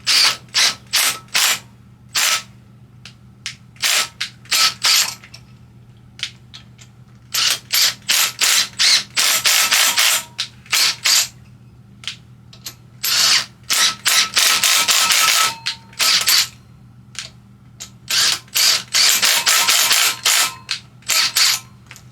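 Impact driver spinning a stud tool to remove a stud from a GY6 scooter motor: repeated close, sharp ratcheting bursts of rapid hammering, grouped in stop-and-start runs with short silences between.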